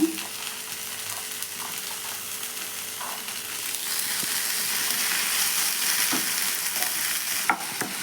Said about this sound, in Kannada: ಸ್ವಲ್ಪ ಟೊಮೊಟೊ ಮೆತ್ತಗಾಗಿ ಅಲ್ಲಿವರೆಗೂ ಫ್ರೈ ಮಾಡ್ಕೊಳ್ಳೋಣ